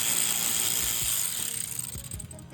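A ratchet is worked on the radiator holding bolts of a BMW 750Li, soft rapid clicks that come through under a loud steady hiss and get clearer toward the end, with no talking.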